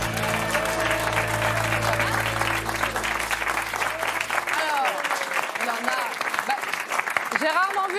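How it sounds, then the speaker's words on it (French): A studio audience at a French comedy show applauds steadily in a dense, continuous wash of clapping while voices talk over it throughout. "Être autant applaudi"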